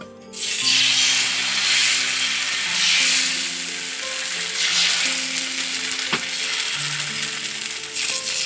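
Continuous loud frying hiss and crackle, close by, with bubbling oil and a brief clink partway through.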